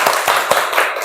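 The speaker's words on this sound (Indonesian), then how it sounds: "Tepuk tangan buat kelompok 3" Classroom applause for a student group, a short burst of several distinct claps at a steady rhythm, close and moderately loud, with no talking over it.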